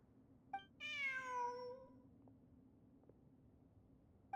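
A cat in a ruins-exploration video game gives a single clear, drawn-out meow that slides downward in pitch. It stands alone over a low steady ambient hum, with faint soft clicks before and after.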